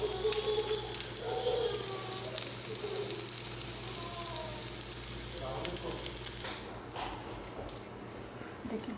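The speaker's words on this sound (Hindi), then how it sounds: "इसी तरह हम अंडे का कोट करके सारी टिक्कियाँ फ्राई कर लेंगे एक एक करके।" Egg-coated potato tikkis frying in a little oil, a close steady sizzle that eases slightly toward the end, with faint clinks of a utensil.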